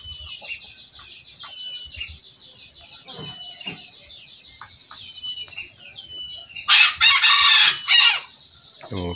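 A small serama bantam rooster crows repeatedly, its high thin calls stretching out, then a louder, harsher crow near the end; close by with faint background noise.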